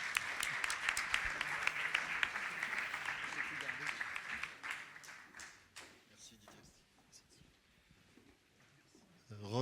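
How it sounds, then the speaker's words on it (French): An audience at a French election assembly applauds John, sustained clapping at first that thins out and fades after about five seconds, followed by a voice and room murmur. "Merci, on peut applaudir John encore."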